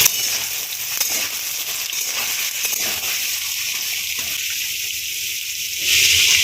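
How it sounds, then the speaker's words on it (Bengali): Small chopped potatoes hiss and sizzle steadily in hot spiced oil with dried chilli and bay leaf, a close, continuous frying crackle that brightens slightly at the end. "ফোড়নে দিলাম ছোটো ছোটো করে কেটে রাখা আলুগুলো দিয়ে দিলাম এর মধ্যে"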